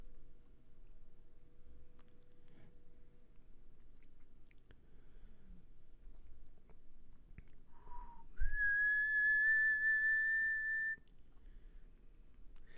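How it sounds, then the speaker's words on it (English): A person whistles a single steady sustained note for about two and a half seconds, fairly close and clear, over a quiet low background hum with no talking. "Whistling."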